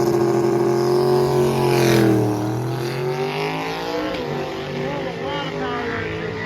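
Drag racing Mustangs and a Dodge Dart on a track, a loud engine roar that climbs, then drops and changes pitch as the cars pull away, with a steady drone after that.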